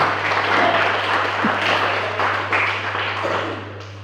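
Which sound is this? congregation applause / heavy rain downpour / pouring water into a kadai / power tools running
congregation applause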